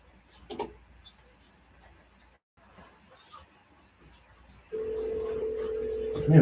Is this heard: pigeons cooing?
no